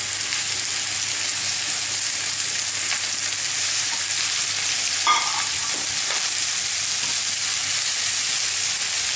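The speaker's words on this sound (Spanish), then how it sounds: "Ya que están empezando a dorar un poquito los champiñones, los ajos, incorporo los champiñones." Mushrooms and garlic sizzle steadily in a frying pan, a dense continuous hiss with a brief clatter of stirring midway and no voices.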